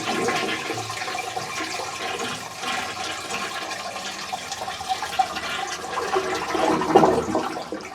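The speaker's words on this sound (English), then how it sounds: "so let's give it one more flush" A toilet is flushed with the handle held down, water rushing and draining steadily for several seconds before a gurgling swell near the end, close and loud.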